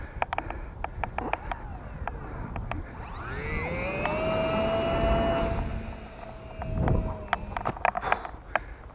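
The electric motor of a Lidl glider converted into an RC biplane whines at half throttle in flight, rising and falling in pitch as the plane passes, with wind buffeting and occasional clicks around it.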